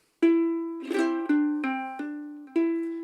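A ukulele picks out a short melody, five or six clear plucked notes with one quick hammer-on, ringing close and alone.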